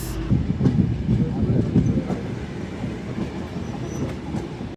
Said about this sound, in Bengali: আর এইমাত্র ফুলতলা রেল স্টেশন থেকে ছেড়ে দিল খুলনা অভিমুখী জাহানাবাদ এক্সপ্রেস